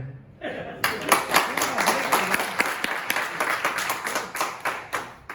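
An audience breaks into applause at a gathering, a dense burst of clapping that starts abruptly and then continues as a lively, rhythmic patter of hands, with a few faint chuckles.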